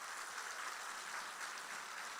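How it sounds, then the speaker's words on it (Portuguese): Church congregation giving a loud round of applause to Jesus, a steady dense wash of clapping that holds evenly from start to finish with no voices over it. "Eu queria que você desse uma mais grande mesmo, uma salva de palmas ao Senhor Jesus."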